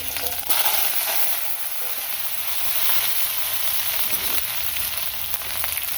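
Purkal vegetable frying in a hot pan, a dense, loud bright sizzle that hisses steadily throughout, with brief stirring scrapes breaking through now and then and no talking.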